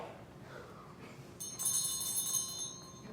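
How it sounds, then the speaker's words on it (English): A bell rung during a stage performance of The Importance of Being Earnest, a bright ringing tone entering midway and sustaining with shimmering overtones over a quiet room, moderately loud and without talk. "Also, ring the bell."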